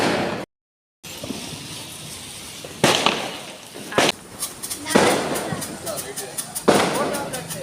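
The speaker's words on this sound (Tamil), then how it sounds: "நிறைய வெடிக்கிறத நான் ஃபோன்ல பார்த்தேன்னா அதனால நானே வெடிச்சிட்டு இருந்தேன்" Diwali firecrackers burst at home in several sharp, loud cracks spaced a second or so apart, with a crackling rumble between blasts.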